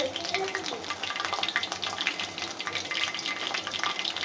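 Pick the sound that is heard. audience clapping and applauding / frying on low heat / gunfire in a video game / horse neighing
frying on low heat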